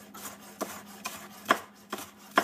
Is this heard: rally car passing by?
no